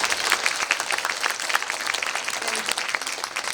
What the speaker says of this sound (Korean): 이정재 감독님께 박수 한번 부탁드릴게요